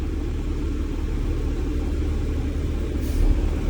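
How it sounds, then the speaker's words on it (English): School bus creeping at about 5 mph during a pre-trip brake test, then the service brake applied; a low, steady engine rumble with a brief heavier thump near the end, no talk. "I'm going to let the bus crawl to 5 miles an hour. I'm going to apply the service brake"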